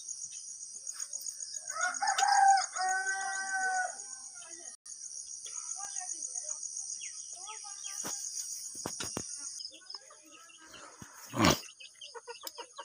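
Rooster crowing and chickens clucking at a rural Nepali home, a short crow early on followed by faint clucks, all under a steady high insect drone, with a sharp knock near the end.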